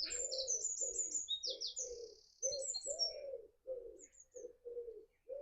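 A pigeon or dove coos in a repeated run of soft, low phrases on an early summer morning outdoors, with small birds chirping and tweeting high above it, close and clear over quiet surroundings.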